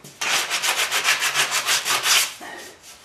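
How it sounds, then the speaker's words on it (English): Sanding paint off a boat rudder: a loud, close burst of quick rhythmic rasping strokes, roughly a dozen in a row, then a softer, slower scrub at the end, with no voices. "I've sanded down a lot of the"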